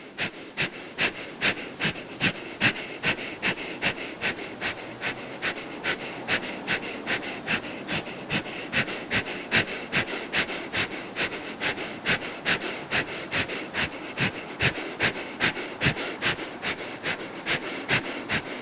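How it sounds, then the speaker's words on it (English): Rapid Kundalini breath of fire, a steady train of sharp, forceful exhalations through the nose, roughly two or three per second, sustained evenly and close up with no talking. "We're going to start our breath of fire"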